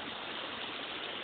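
The La Salle River flowing outdoors, a steady dense rush of water with no break, close and fairly loud.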